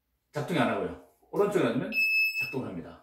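A drowsiness alarm earpiece gives a steady high electronic beep lasting about half a second, heard between stretches of someone talking close to the microphone.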